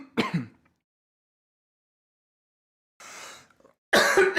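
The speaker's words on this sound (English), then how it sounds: "Apologies, I just started coughing." A man coughs and clears his throat in a quiet room: one harsh rasp at the start, a softer rough clearing after a pause, then a louder burst of coughs to finish.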